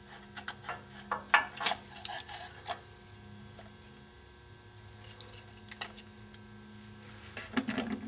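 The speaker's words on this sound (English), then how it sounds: "Next, I'm going to remove the old gasket." Someone scrapes old gasket material off the housing of a 1998 Dodge Ram 1500 4WD vacuum actuator, giving short scratchy bursts and clicks close up, busier at first and then sparse with quieter gaps.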